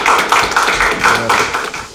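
A church congregation at a Saturday prayer meeting of a Korean church in Paris claps along in a steady rhythm of sharp, evenly spaced hand-claps. The clapping is close and fairly loud, with no voices over it.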